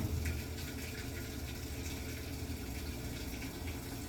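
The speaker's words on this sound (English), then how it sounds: "You let the water run in." Water pours steadily into a washing machine drum as it fills, a constant rushing and gushing flow with a low, even rumble throughout, fairly faint.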